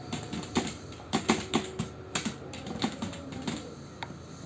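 A computer keyboard is typed on with quiet, irregular clicks at close range while text is entered in Microsoft Word.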